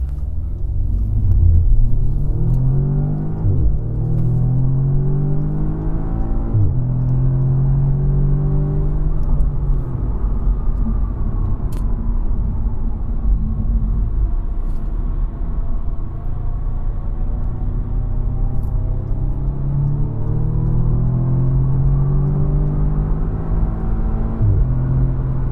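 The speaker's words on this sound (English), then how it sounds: "so we're going to do a 0 to 60 launch using launch control" A 2016 Audi S3 accelerates hard from a launch-control start, its engine roaring and rising in pitch through several gear changes, steady and loud from inside the cabin for about twenty-five seconds.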